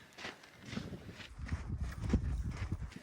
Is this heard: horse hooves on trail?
yes